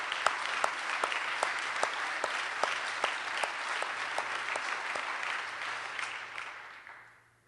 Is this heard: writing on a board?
no